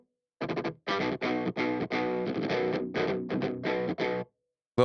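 Distorted electric guitar run through the MMS Clairvoyant amp sim plugin with enhance added and 4x oversampling, playing a series of loud chugging riffs with short pauses between phrases, no talk.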